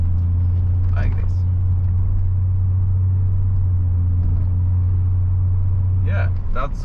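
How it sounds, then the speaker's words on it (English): A BMW 730d E38 7 Series with a 184 hp diesel is driven hard from the passenger seat, a steady loud low engine drone running throughout, with brief scrapes or tire noise near the start and end and voices talking over it. "You know how I am meant to drift a 7 Series? Like this, like a boss"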